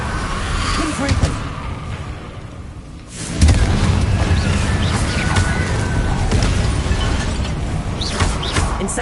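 A Confringo blasting spell explodes during combat in Hogwarts Legacy: a sudden loud blast bursts out about a third of the way in, then dense crackling, rumbling battle noise carries on at high volume.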